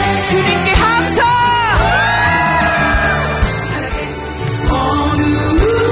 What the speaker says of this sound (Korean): 주님께 함성!